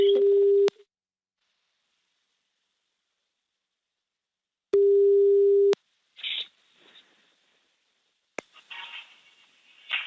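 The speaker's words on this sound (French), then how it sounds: "On appelle Thomas là." Steady telephone line tones sound while a call is being placed, a loud pure tone for under a second, silence, then another tone burst, followed by faint clicks and line noise.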